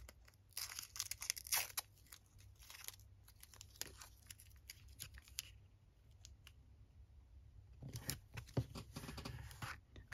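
Pieces of washi tape torn by hand at a craft table, in quick bursts of close ripping and crinkling paper with quiet pauses between, then a second flurry of tearing.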